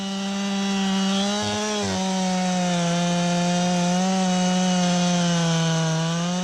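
A chainsaw plunge-cuts into a tree on the compression side, its engine droning loud and close at a steady high pitch that wavers slightly as the bar sinks into the wood.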